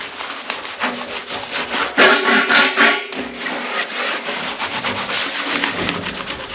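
A cloth soaked in sugar soap is rubbed over a radiator, giving continuous close scrubbing and rubbing strokes that rise and fall in loudness, busiest around the middle.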